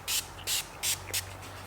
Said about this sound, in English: Now we're gonna spray some application spray